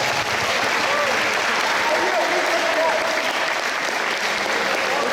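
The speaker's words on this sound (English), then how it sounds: "Please give them a round of applause" A crowd applauds the coaches at the Carson High School athletic awards ceremony, steady dense clapping that holds for the full stretch, with a faint murmur of voices mixed in.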